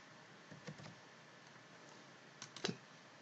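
Computer keyboard keys tapped in two small bursts of a few quick clicks, one near the start and one near the end, faint and close against a quiet room hum.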